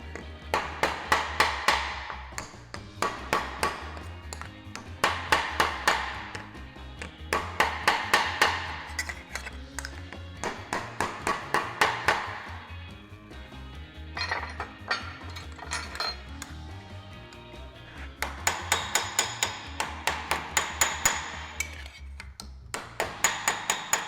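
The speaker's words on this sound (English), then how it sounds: "I wonder if this might be better with my wood hammer." Rapid bursts of wooden hammer blows ring against sheet metal, clanging in quick rhythmic runs separated by short pauses, loud and close throughout.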